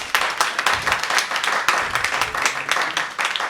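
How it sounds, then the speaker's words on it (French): An audience at an International Day of Peace celebration applauding for Madame Michel Samba, lively uneven clapping with distinct individual claps swelling and dipping, fairly close, no talk over it. "Est-ce qu'on peut applaudir pour Madame Michel?"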